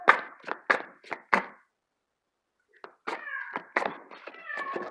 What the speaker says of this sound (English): I took a little break because my cat was yelling really loudly.